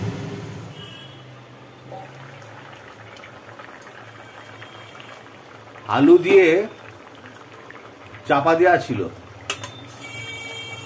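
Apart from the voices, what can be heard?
curry boiling and bubbling in a pot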